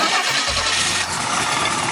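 Buick Grand National engine cranking briefly and catching, settling into a steady rumbling idle, close and loud.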